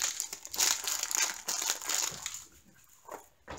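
A small plastic bag crinkles up close while diamond painting drills are packed into it, in bursts of crisp rustling that fade and return with short pauses.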